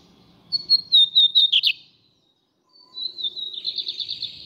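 A lined seedeater, or bigodinho, sings up close in two loud bursts of rapid, rising and falling whistled trills separated by a short silence.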